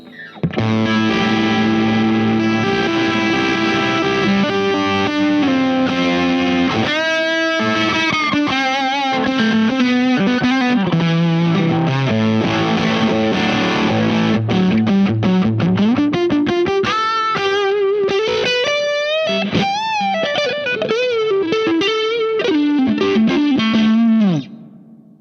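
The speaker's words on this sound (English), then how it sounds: "It's almost like some octafuzz harmonics there. Some fuzziness here. If I turn a boost up as well." Electric guitar played through an rnrmf Bigfoot Drive fuzz pedal with its boost engaged, giving loud, continuous distorted fuzz with octave-like harmonics, chords and sliding single-note lines sustained throughout with no talking.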